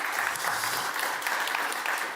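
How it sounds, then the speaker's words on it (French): An audience at a deeptech pitch session applauds a speaker, a dense, steady wash of clapping from a room full of people, even in loudness and heard alone for a couple of seconds. "Je pense qu'on peut l'applaudir"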